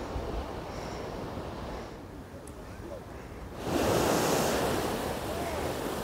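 Sea waves wash onto a white sand beach at Henry Island near Bakkhali, a steady roar of surf with wind buffeting the microphone and a louder surge midway.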